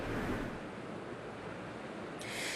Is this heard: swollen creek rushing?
yes